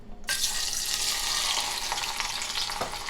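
Garlic sizzles in heated avocado oil, a steady broadband frying hiss that starts abruptly as it hits the pan and continues close and loud without speech.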